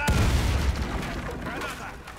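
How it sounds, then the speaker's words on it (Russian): A grenade explosion in the video game Warface hits with a deep boom at the start, then rumbles and decays while an in-game voice calls out over the tail. "Осторожно, граната!"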